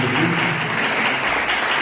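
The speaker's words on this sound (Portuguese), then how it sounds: "adore ao Senhor com as palmas." A church congregation claps together in worship, a brief burst of dense, steady applause from many people filling the space at moderate loudness.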